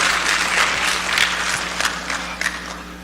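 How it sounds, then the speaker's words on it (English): Steady applause from an audience at a Krio descendants' reunion panel in Dallas, Texas, a dense crowd clapping at even loudness through the whole stretch with a few sharper claps standing out near the end. "So give another round of applause for Mr."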